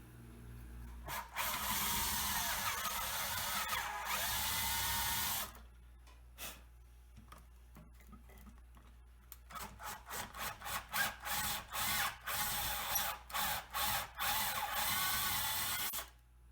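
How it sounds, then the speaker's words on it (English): A power drill bores out holes in an old wooden wagon wheel during an antique horse tricycle restoration, with one long steady run, then a rapid series of short bursts with pauses between them, loud and close with no talking. "Drilling out the holes for the,"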